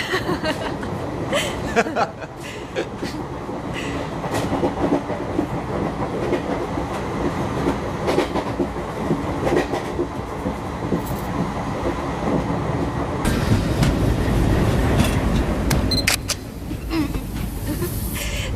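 A train rolls along the rails as it pulls into a station, a steady rumbling rattle with rhythmic clicks that swells louder toward the end, while people talk over it throughout.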